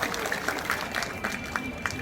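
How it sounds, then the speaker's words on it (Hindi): Applause from an audience honoring guests at a speech event by a legislator, a short burst of scattered clapping heard somewhat distant and moderately quiet, with a busy crowd murmur underneath. "जोरदार तालियां बजाएं हमारे मेहमानों के सम्मान में।"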